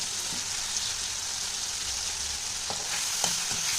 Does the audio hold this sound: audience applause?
no